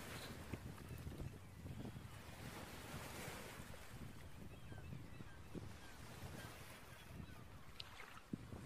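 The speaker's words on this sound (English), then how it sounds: "it's very windy" Strong wind gusts buffet the microphone over the steady wash of surf rolling in on the Sydney coast, a constant outdoor roar with no speech.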